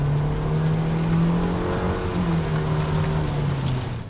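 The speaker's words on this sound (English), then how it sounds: "As I smash the gas here" A 2021 Nissan Kicks SR small SUV accelerates hard in the rain, its engine droning loud and steady inside the cabin over a constant wash of road and rain noise, with no talk.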